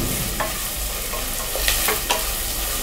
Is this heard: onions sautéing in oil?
yes